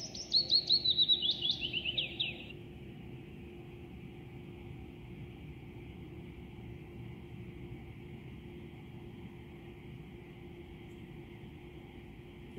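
A single bird lets out a quick run of bright, rapid chirps and trills for about two seconds, close and clear. After it stops, only a steady low hum and faint background rumble remain.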